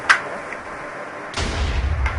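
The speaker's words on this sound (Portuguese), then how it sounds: "Agora eu vou usar esse canhão aqui" A cannon fires in the video game TnT Wars, giving a sharp, loud boom followed by a heavier rumbling blast and a softer final pop, all with no talk over them.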